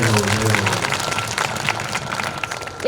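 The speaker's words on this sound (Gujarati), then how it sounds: "એકવાર આયોજક માટે જોરદાર તાળીઓ આપો." An audience at a Bhagavat katha claps loudly for the event's organiser, a dense burst of applause that thins and fades over a few seconds before a brief sound at the very end.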